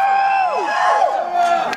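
Crowd at a reggae concert cheers and whoops loudly, a dense burst of many voices close by, sustained through the short moment.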